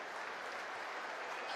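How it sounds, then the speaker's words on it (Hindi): A large crowd at a CRPF parade applauds with dense, sustained clapping, an even wash of many hands that holds steady and fairly loud from start to finish. "जोर से ताली बजाकर सीआरपीएफ के इस निर्णय का हम स्वागत करें"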